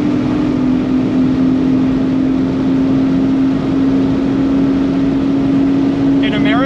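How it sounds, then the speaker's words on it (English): A Volkswagen Atlas Harlequin SUV races uphill at about 100 mph with four people aboard, giving a loud, steady engine and road drone that fills the cabin without a break, with faint voices beneath it. "We're doing 100 miles an hour uphill with four people in it"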